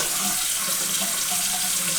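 Water runs steadily from a bathroom tap into a sink, a continuous close hiss with no talking over it.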